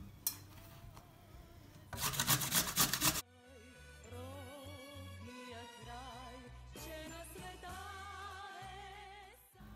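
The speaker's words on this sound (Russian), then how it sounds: "Для начала мы натрем на терке наш картофель." Raw potatoes rubbed against a kitchen grater for a Bulgarian potato pie, a steady rasping scrape close by, with a louder burst of grinding strokes early on before the rhythmic grating continues alone.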